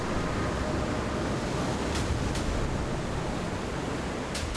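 A waterfall roars as a dense, continuous rush of broadband noise, loud and unbroken throughout, with no voices.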